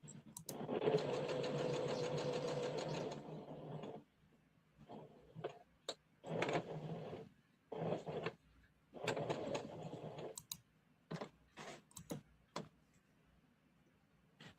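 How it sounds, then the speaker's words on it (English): A sewing machine back tacks at the start of a dart, running in one long burst, then stopping and starting in short runs and quick stitch bursts separated by quiet pauses. "I am back tacking at the starting end of my dart."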